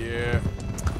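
Hooves of a horse named Johnny clip-clopping at a trot in Red Dead Redemption 2, soft and steady beneath game music and ambient sound.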